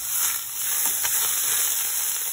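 Chopped onion and garlic fry in melting bacon fat, a soft steady sizzle with faint crackles and stirring, close and alone without any talk.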